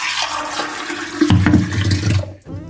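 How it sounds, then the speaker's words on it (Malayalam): Water poured into a glass while making a DIY toner, a close, loud rushing gush that rises in pitch as the glass fills, then stops abruptly. "അപ്പോൾ ദേ ഞാൻ ഗ്ലാസ്സിൽ വെള്ളം എടുക്കട്ടെ."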